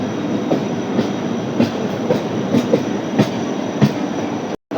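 Bandra–Veraval train 19203 hauled by a WDP4B diesel locomotive rolls along with a steady clickety-clack of wheels over rail joints, rhythmic thumps repeating under continuous rumble, close by, before a brief cutoff near the end.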